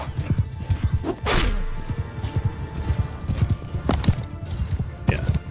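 Horse hooves gallop in a rapid clip-clop across rough terrain in the medieval battle game Mount and Blade II Bannerlord, with a whinny and clashing noise mixed in and someone talking over the action.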